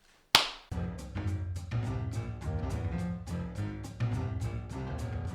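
A single sharp hand clap kicks off a show opening, loud and close, then quickly gives way to upbeat rhythmic intro music with regular percussive hits.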